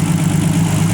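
The RB25DE engine of an R32 Nissan Skyline tarmac rally car with individual throttle bodies and a side exit pipe idles nearby, producing a loud, steady, deep throbbing hum with no talking.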